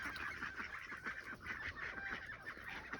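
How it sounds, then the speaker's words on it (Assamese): Ducks on a local duck farm calling in repeated nasal honking quacks, several birds overlapping at moderate distance, fairly faint overall. "সোমাইছোঁ মই আমাৰ লোকেল হাঁহৰ ফাৰ্মখনত এইফালে চাওক হাঁহ বৰ্তমান বেছি নাই"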